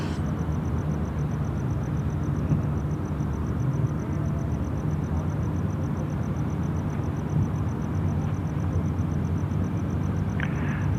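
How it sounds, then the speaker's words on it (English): Emirates 417 airliner departing from a runway at Sydney Airport in the evening: a distant, continuous low jet roar, broad and steady throughout, with a faint high-pitched tone over it. "we're going to have the Emirates 417 depart"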